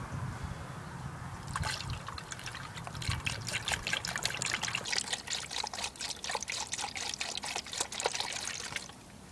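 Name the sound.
pouring antifreeze into car coolant reservoir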